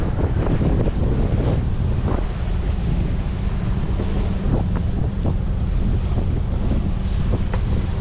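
Strong headwind buffets a sailboat beating close-hauled, a steady loud roar of wind on the microphone mixed with waves and surf washing against the hull, continuous with no voices.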